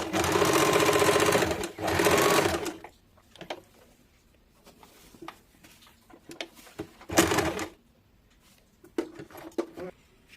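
A sewing machine joins two cut waistband strips for a six-panel petticoat, running in a loud, steady burst of nearly three seconds, then a shorter run later, with quiet handling clicks in between.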